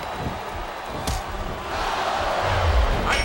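A wrestling arena crowd in SmackDown vs Raw 2007 shouts and roars as a steady wash of noise, swelling slightly toward the end, with a sharp thud partway through.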